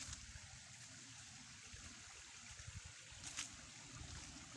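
A small stream flows through a forest, a faint, steady trickle and gurgle of water with no voices.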